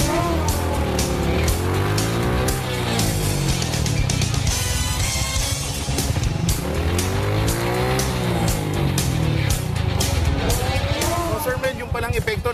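A vehicle engine under steady load while braking with only the front brake on a practice run, with a faint tire squeal, a constant roar close to the microphone, and a person speaking over it.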